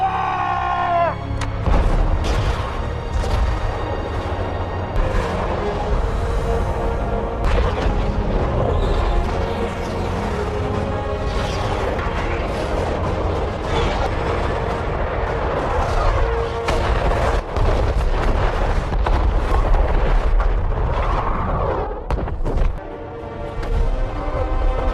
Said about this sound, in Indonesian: mereka pun langsung menembakkan rudal-rudal mereka dan menghancurkan para musuh serta menghancurkan tank-tank mereka